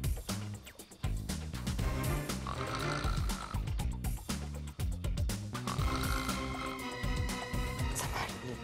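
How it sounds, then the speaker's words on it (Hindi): A man's loud, rhythmic snoring repeats in deep rasping breaths, close by, with other sounds layered over it. "इन्हें अपने खर्राटे की आवाज नहीं आती"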